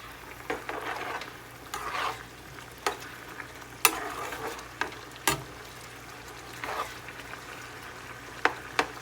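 Meat in red chile sauce cooks on high heat, giving a steady close bubbling sizzle broken by scattered stirring scrapes and spoon knocks, with no talking.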